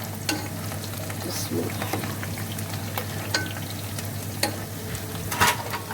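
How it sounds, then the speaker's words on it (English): Onions fry in oil while a spoon stirs them, giving a steady close sizzle with scattered scraping clicks against the pan; a brief softly spoken word is heard once. "I am going to mix with the spoon here."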